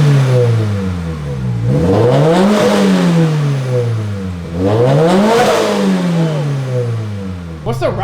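Car engine revving in repeated swells, pitch climbing and falling twice, with a rattle blamed on a faulty O2 sensor, heard up close at fairly high volume.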